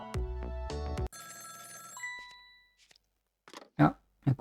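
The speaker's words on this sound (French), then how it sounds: "Ah, un coup de téléphone." A telephone in the video game Ghost Trick rings with bright, repeated electronic bell tones that ring out and decay, followed by short bursts of speech.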